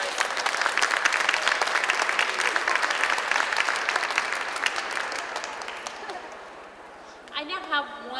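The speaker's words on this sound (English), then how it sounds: "let's have a round of applause for all of our winners" An elementary school audience applauds award winners, a steady crackle of many hands clapping together for about six seconds that then fades, and a voice speaks at the end.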